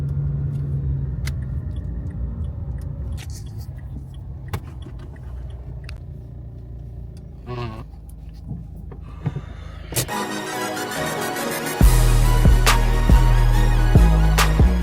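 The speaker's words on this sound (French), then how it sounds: "là, on est dans la voiture de ma mère" Inside a moving car, a low engine and road rumble drones under scattered clicks and small knocks, then the cabin noise grows louder and fuller toward the end.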